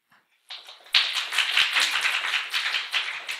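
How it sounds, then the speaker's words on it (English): Audience applause at a panel discussion on community anniversaries, a dense burst of clapping that starts abruptly, swells quickly and holds steady, close and fairly loud, with no talking over it. "I will accept that applause."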